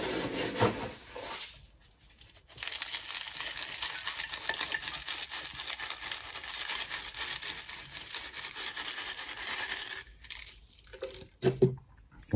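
Gritty scraping and stirring of bonsai substrate mixed with pumice and bonsai compost, a close continuous rustle with two short pauses and a few sharper scrapes near the end, no talk.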